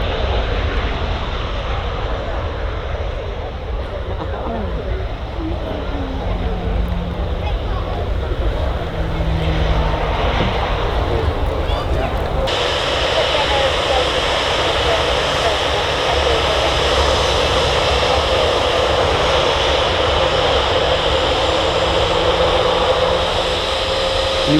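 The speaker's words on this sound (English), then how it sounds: "You might wonder why the aircraft sort of slow down and then throttle back up again." Airliner engines at Manchester Airport hold a constant loud roar, with the whine shifting in tone partway through as the aircraft slows and throttles back up, sustained and close throughout.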